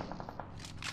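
Gunfire in PUBG Mobile during a competitive match, a quick burst of rapid shots followed by a couple of louder, sharper reports within a single second.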